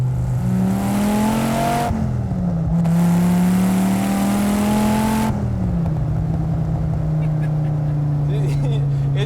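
Dodge Viper SRT-10 making 568 wheel horsepower, its side-exit exhaust heard from the cabin while driving: a loud, deep engine drone climbs with throttle, drops at shifts around two and five seconds, then settles into steady cruising.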